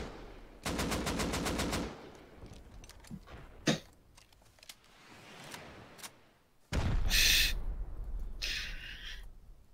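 Gunfire in the survival game Rust: a rapid automatic burst near the start, scattered single shots and clicks, then another loud burst later, fairly close.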